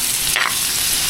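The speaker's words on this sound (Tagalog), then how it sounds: "igisa lang natin ng saglit" Beef for beef stroganoff sautés in a pan with a loud, steady sizzle and a short scrape of a stirring utensil partway through.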